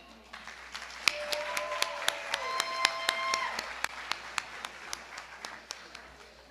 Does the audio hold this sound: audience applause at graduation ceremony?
yes